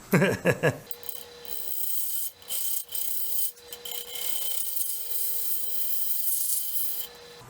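Gouge cutting box elder wood on a spinning lathe, a sustained close rasping scrape with a steady whine, broken by short pauses and bursts early on as the tool catches, no talking.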